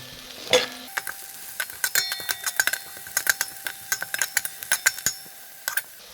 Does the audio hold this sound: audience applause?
no